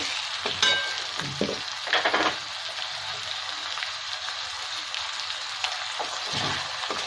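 Chopped tomatoes and salt fry in a pan for a Kashmiri-style chicken curry, a steady close sizzle broken by a few spatula scrapes and stirring strokes.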